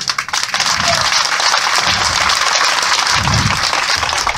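Sustained crowd applause greeting a guest at a 2018 López Obrador presidential campaign rally in Abasolo, a dense continuous roar of clapping with an announcer's amplified voice booming over it.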